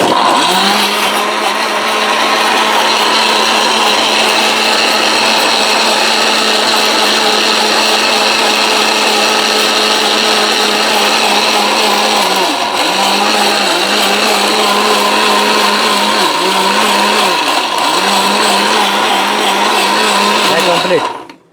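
A loud electric grinder whirs steadily as it grinds ginger and garlic, its motor pitch dipping briefly several times in the second half before it cuts off at the end.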